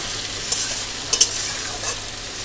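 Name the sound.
onions frying in a pan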